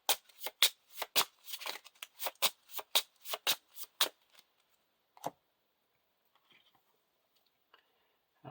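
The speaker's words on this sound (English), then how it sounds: "Shuffle the encounter deck." A deck of Lord of the Rings card game encounter cards is riffled and bridged in a rapid crackling burst lasting several seconds, then a few soft taps and near silence.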